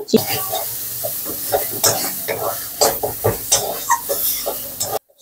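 Cauliflower leaves are stirred and fried dry in a pan, a soft continuous sizzle broken by repeated scraping strokes of a spatula against the metal, close and fairly loud.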